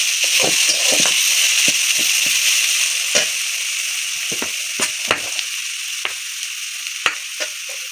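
Garlic and small-cut onion frying in oil for tempering a mutton curry, a steady loud hiss with scattered crackles and spatter pops, close up and gradually easing slightly, with no voices.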